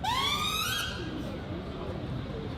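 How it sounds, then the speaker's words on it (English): An ambulance siren sweeps upward in rising wails at the start, fading behind a dense broadband rush of traffic or wind that fills the rest of the short stretch. "We got an ambulance coming."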